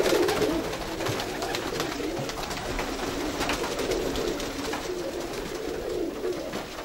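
Racing pigeons coo steadily in a loft, a continuous layered murmur of close, overlapping calls with no talk over them.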